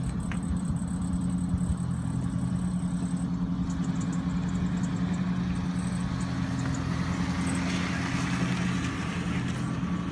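A truck engine running steadily at idle, a low constant rumble with a faint higher whine, heard alone throughout without any talk.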